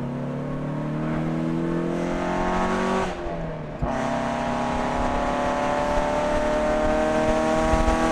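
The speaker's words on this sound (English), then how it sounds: "what the car sounds like inside, outside, revs, flybys" A Mazda NA Miata with a custom valved exhaust revs up loudly and steadily, drops briefly around the middle, then climbs again into a sustained, rising drone with no talking.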